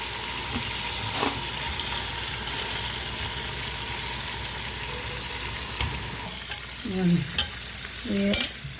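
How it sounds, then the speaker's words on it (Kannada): Mixed chopped vegetables frying in a pan for vegetable masala bath, with a steady close sizzle and a few louder stirring scrapes near the end, no talking. "ಎಲ್ಲ ಒಟ್ಟಿಗೆ ತರಕಾರಿ ಹಾಕ್ಕೊಂಡು ಬಿಡಬೇಕು"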